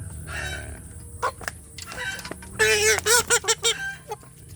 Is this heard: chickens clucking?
yes